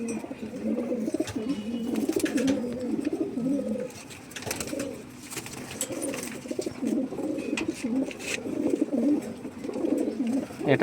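Domestic chhatriwala Malbai pigeons give a steady run of rolling, overlapping coos, near and fairly loud, broken by a short lull before the cooing resumes.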